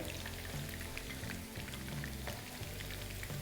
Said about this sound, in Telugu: చికెన్ ముక్కలు ఫ్రై అయిపోయాయి.